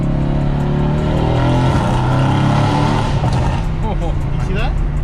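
A Mercedes W205 C63S AMG engine drones under load with steady low harmonics, pulling through short-shifted gears inside the car while people talk over it.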